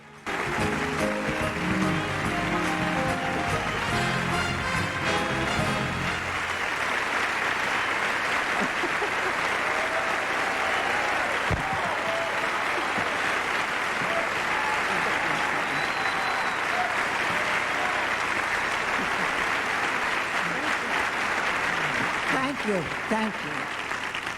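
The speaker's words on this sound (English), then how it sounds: "the audience welcomed the beloved duo with thunderous applause the moment they appeared" Audience applause for Archie and Edith at the 1996 Emmy Awards, a dense, sustained roar of clapping that holds steady throughout, with a musical fanfare underneath at the start.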